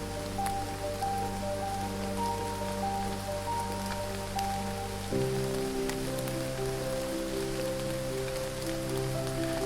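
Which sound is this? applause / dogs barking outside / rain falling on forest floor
rain falling on forest floor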